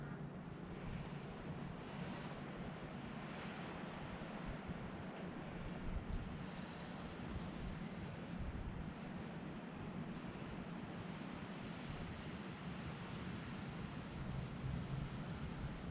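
Strong wind gusts rush through swaying treetops on a homestead in western New York during a blizzard, a continuous roaring broadband whoosh that swells slightly at times, with no one speaking.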